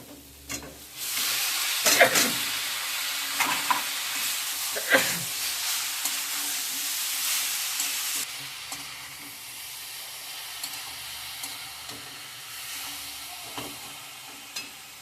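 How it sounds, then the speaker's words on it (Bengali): Boiled taro drops into a hot pan and is stirred, giving a loud, dense sizzle with scraping spoon strokes that fades to a quieter simmering hiss with occasional clinks in the second half. "এইভাবে নাড়াচাড়া করে নিয়ে এবার সিদ্ধ করা কচুটা আমি দিয়ে দেবো"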